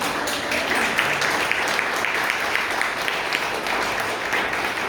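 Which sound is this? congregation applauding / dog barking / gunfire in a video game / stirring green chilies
congregation applauding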